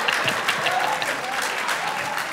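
A studio audience at a comedy show bursts into sustained, dense applause, loud and close, with many hands clapping steadily throughout.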